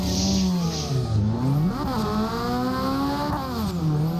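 Simulated drift car in Assetto Corsa held under throttle, its engine droning loud and steady with pitch swooping up and down as the revs are feathered, tyre hiss running underneath throughout.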